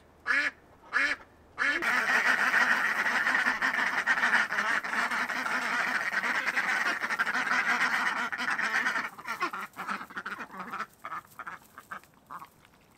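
Pet ducks quack loudly in a homemade enclosure, a few sharp separate quacks, then a dense, continuous flock chorus of honking quacks, thinning into scattered calls near the end.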